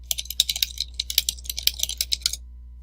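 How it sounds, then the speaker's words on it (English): Quick, irregular keystrokes on a computer keyboard sound close and crisp, coming in short bursts over a low hum for about two and a half seconds before stopping, with no voices. "you can type in anything you want"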